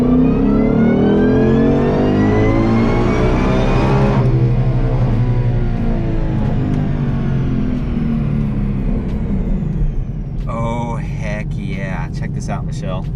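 A 2020 Ford Mustang GT500 on E85 makes a loud full-throttle dyno pull, its supercharged engine climbing steadily in pitch for about four seconds, then dropping back to a sustained roar. Near the end, whirring and whining noises come in over the engine.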